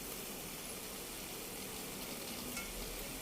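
Carrot halwa being stirred in a pan, a faint steady sizzle with soft scraping running evenly throughout, no talking.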